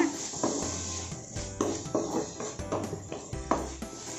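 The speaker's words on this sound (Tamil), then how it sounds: "இந்த மசாலாலாம் இதில் ட்ரை ஆகிற வரை நல்லா வதக்கிடுங்க" Masala for prawn Maggi stirred and sautéed in a pan, with a spoon scraping in regular strokes about once a second over a soft sizzle, close by and without talk.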